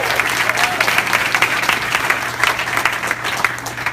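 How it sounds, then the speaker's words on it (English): An audience at a live event gives sustained applause, dense steady clapping throughout with a low hum underneath, and no voices stand out. "Give them a round of applause"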